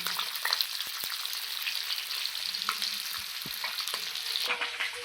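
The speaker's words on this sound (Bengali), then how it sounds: "দেখুন ডিম আমি কড়াইয়ে দিয়ে দিয়েছি" Eggs fry in hot oil in a kadai for an egg curry, giving a constant, close sizzling hiss with scattered crackles and a few light knocks from stirring.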